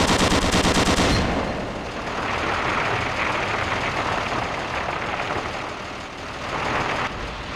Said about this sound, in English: Press your crouch key to fire the machine gun.